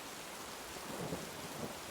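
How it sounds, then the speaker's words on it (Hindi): Heavy rain falls in an even, dense hiss, a steady downpour with a faint low rumble like distant thunder underneath and no voices. "वरुण के चेहरे पे बारिश की तेज़ बूंदें पड़ रही थी"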